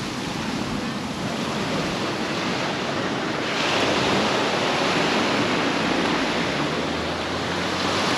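Choppy ocean surf at a Jamaican beach makes a steady, loud wash of broadband noise with wind buffeting the microphone. The roar swells slightly midway and stays continuous throughout with no voices.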